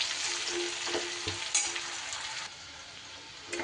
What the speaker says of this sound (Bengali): পেঁয়াজটাও খুব সুন্দর করে তেলের সাথে ভেজে নিতে হবে